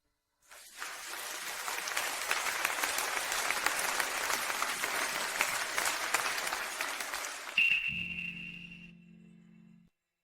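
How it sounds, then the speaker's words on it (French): Audience applause at a wedding ceremony as two newlywed couples step onto a stage, a dense crowd clapping loudly and steadily for about seven seconds, then cutting off into a brief tonal music sting that fades. "Faisons retentir nos applaudissements."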